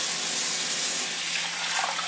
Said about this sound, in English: I turn on the faucet.